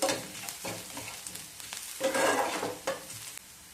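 Two medium onions, finely chopped, fry and sizzle in a pan for a Maharashtrian drumstick and potato curry, with steady crackling broken by repeated scraping stirs, close and moderately loud.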